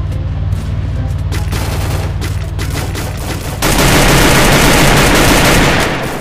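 Shotgun blasts in a squad ranked mobile shooter, arriving as a dense, loud run of rapid shots that grows heavier and louder toward the end, with no talk over it.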